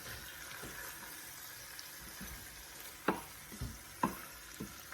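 Oxtail is stirred in a pot with onions and spices, giving a quiet, steady sizzle and a few distinct scraping knocks from the spoon near the end, close and low in level.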